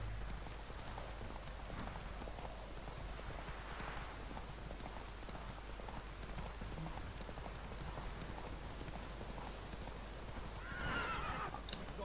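Roach, a horse in The Witcher 3, whinnies against steady rainfall, with hoofbeats clopping faintly beneath the downpour and a brief sharper neigh near the end.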